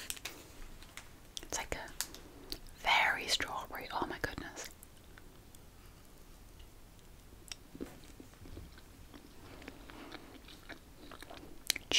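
Soft, close chewing of a chewy strawberry sweet from a Greek food package, with moist mouth sounds and faint crunchy bites, a brief louder burst partway through, and occasional whispering.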